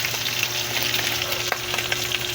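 Pork sautéing in a pan, a steady close sizzle and crackle of frying with a few light stirring clicks, no talk.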